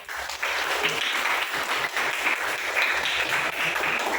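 Classmates clap for a student in a classroom during a math lesson, a steady burst of applause lasting about four seconds with no talking over it.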